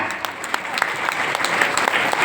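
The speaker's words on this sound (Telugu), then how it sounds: "చేతులున్న ప్రతి ఒక్కరు కొట్టొచ్చు క్లాప్స్ గట్టిగా." Loud, continuous applause fills a hall at a Vestige business talk. Many hands clap steadily, with a few sharper claps poking through the wash of sound.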